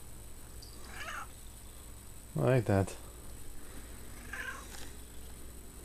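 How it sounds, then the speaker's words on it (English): A house cat lets out two quick, loud meows up close in the middle, with fainter cat-like sounds before and after, while a person speaks briefly nearby. "There's a cat looking at fresh firewood that was brought in."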